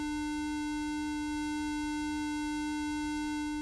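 A synthesizer square wave mixed with a sine wave from a panning plugin holds as one steady, bright, buzzy tone throughout, unbroken and alone, with no voices.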